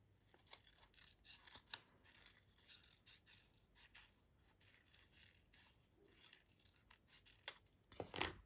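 Scissors snip repeatedly around paper journal cards, a quiet series of sharp, irregular cuts and rasping paper edges, close up, with no voices.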